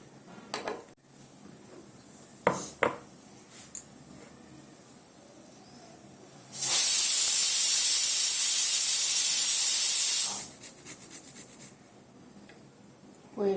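A pressure cooker on a kitchen stove, cooking green moong dal khichuri, bursts into a loud, sustained steam whistle lasting several seconds, framed by quieter kitchen clatter before and after.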